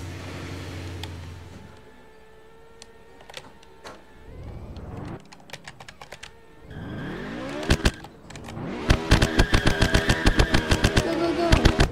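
BMW M3 GTR engine in a racing video game, revving and accelerating with rising and falling pitch, then a rapid burst of loud rhythmic pops and crackles toward the end; a voice talks quietly at times.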